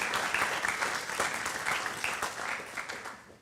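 An audience at a book talk breaks into warm applause, a dense wash of many hands clapping that holds steady and then begins to thin toward the end.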